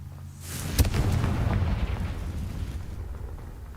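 Confringo spell explosion in the video game Hogwarts Legacy: a sharp blast that swells into a loud, rumbling boom, then slowly fades over a few seconds with no talking.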